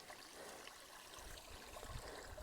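A stream flowing at a river crossing on a hillside walk, a soft, steady trickle and gurgle of clear water heard up close with no voices.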